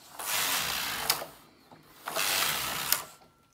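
A knitting machine knits rows of a sock as the carriage makes two loud rasping sweeps, each ending in a sharp clack, close and with no speech.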